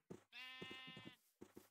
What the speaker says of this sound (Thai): ฮะเราล่อแกะมาอีกแล้ว